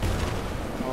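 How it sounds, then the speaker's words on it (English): Missiles striking an airship in Airship Kingdoms Adrift, a brief heavy rumble of booming impacts, loud and dense throughout the short moment. "I saw those missiles and I knew they were gonna hit"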